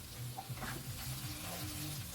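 Gizdodo, plantain and gizzard with pepper and carrot, sizzles steadily in a frying pan while being stirred. The frying is soft and continuous, with faint scraping and no talking.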